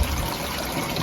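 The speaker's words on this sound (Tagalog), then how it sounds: "nag-overflow na yung tubig" Water overflows from a crab-rearing box filled by a small 25–30 watt submersible pump, a steady close gushing and trickling wash with no voices.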